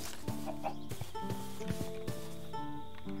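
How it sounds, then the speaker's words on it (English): Minecraft chickens cluck repeatedly in a Roguelike Adventures and Dungeons modpack, several close, clear bursts of short bucking notes over a steady low game hum, with no talk. "Chicken."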